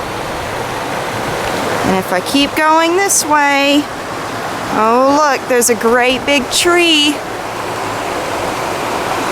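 A small creek flows with a constant rushing hiss beside a woodland path, while someone talks over the water.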